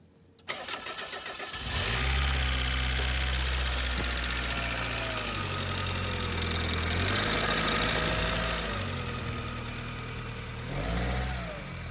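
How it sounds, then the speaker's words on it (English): A long-sitting Mazda Miata from a scrapyard cranks and starts, then idles with noisy lifters ticking over the engine note, the revs rising and falling a few times, close and clear with no voices. "The lifters are noisy because this thing sat for a long time, but this is just another proof that the engine runs fairly strongly."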